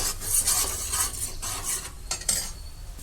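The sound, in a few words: frying and stirring masala in oil for chicken pulao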